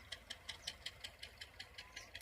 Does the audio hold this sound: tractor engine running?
yes